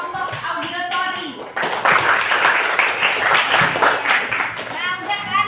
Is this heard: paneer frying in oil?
no